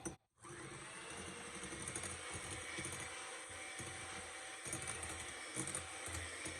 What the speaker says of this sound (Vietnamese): Mình dùng cái máy đánh trứng này mình trộn lên cho nó đều lại